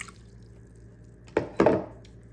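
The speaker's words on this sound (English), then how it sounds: "And then we'll get our cold water in," Cold water goes into a big mixing bowl for potato dinner roll dough in two short, close splashing gushes after a quiet start.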